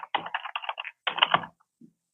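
Two quick bursts of clattering keystrokes on a computer keyboard in a courtroom, close by, separated by a short pause, then a faint final click.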